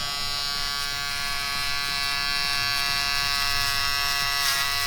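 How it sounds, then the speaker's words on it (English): Electric close shaver edging curly hair in a salon, a steady high-pitched buzz running loud and close without pause, with slight shifts as the blades move over the hairline. "now I'm going to use my close shavers"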